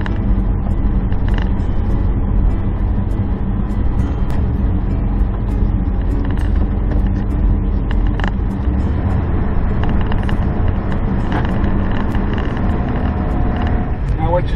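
A pickup truck's engine runs steadily while driving on a hot Arizona day, a constant loud low rumble with faint creaks and rattles throughout.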